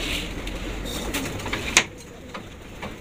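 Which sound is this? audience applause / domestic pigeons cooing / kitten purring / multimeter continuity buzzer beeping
domestic pigeons cooing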